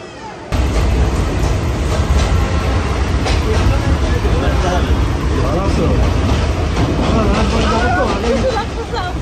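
Dense, loud rumble aboard or beside a train in Bangladesh, with crowd babble and people talking throughout over a constant mechanical roar.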